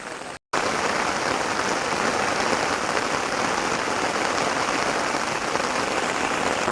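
Monsoon rain falling steadily in a national park forest near Borivali, a dense even hiss of drops that starts abruptly after a brief gap and continues without a break.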